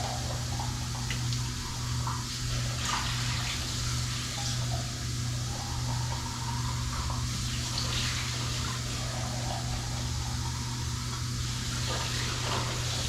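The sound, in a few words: water running while rinsing food for chili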